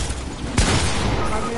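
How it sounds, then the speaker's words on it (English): A sudden burst of gunfire from a PS4 shooter game, one sharp loud shot followed by rattling fire, heard close and mixed with game noise. "I hear shooting."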